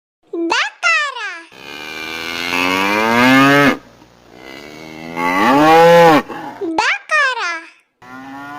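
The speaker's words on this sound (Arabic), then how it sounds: "بقرة" A cow gives two long, loud, drawn-out moos, framed by brief bursts of a voice before and after.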